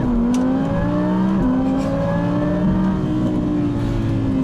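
A 2020 Can-Am Maverick X3 Max X RS Turbo RR side-by-side accelerating, its turbo engine droning loudly and steadily with a rising pitch that steps down briefly at gear shifts, heard from on board.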